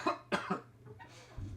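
Several sharp coughs in quick succession from one person close to the mic, followed by a faint low rumble.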